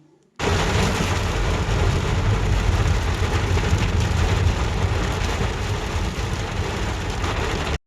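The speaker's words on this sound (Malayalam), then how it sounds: "തിരിച്ചു പോകണ വഴിക്ക് അത്യാവശ്യം നല്ല രീതിയിൽ നമുക്ക് മഴ കിട്ടിയിട്ടുണ്ടായിരുന്നു" Steady heavy rain pours down for several seconds during a trip to Athirappilly, a dense continuous hiss that starts abruptly and stays loud throughout, with no voices.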